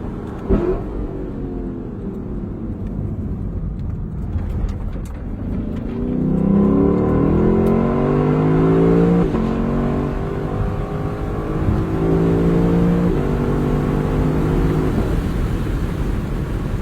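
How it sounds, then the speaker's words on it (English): A car exhaust hums low at first, then swells into repeated revs that rise and fall in pitch several times, loud and close, with no talk. "What you really want to hear is this exhaust."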